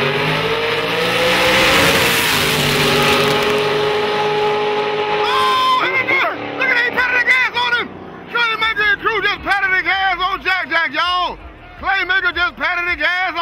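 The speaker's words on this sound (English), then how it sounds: "Claymaker just patted the gas on Jack Jack" A Mustang drag race car at a grudge race revs hard, a loud, sustained engine roar filling the first few seconds before fading under excited shouting and cheering voices.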